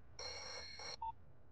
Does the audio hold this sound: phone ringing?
yes